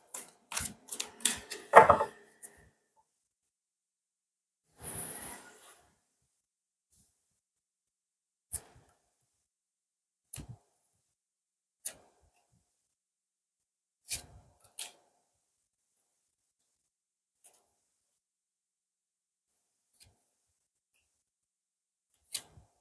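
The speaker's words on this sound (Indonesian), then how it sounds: "aku rapikan dulu kartunya ya" A large deck of tarot cards being tidied: a quick flurry of riffling card snaps at the start, a short shuffle burst, then sparse, sharp taps and clicks as the cards are squared, close and with no talking.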